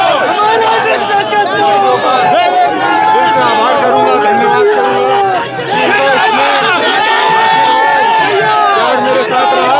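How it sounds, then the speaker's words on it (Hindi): A large, dense crowd gathers to welcome Devendra Yadav on his release from jail, with continuous loud chatter and excited voices filling the scene from start to end and no pause. "क्योंकि भीड़ इतनी है"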